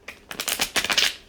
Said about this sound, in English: my deck doesn't want to shuffle properly.